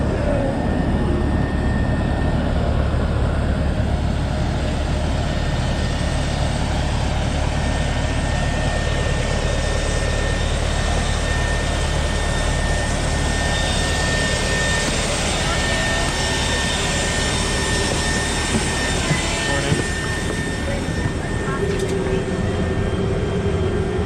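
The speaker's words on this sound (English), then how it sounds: "a Dornier 328-100." Steady, loud broadband roar of a Dornier 328-100 turboprop's engines running on an airport ramp, with constant low rumble and high whine holding throughout without pause.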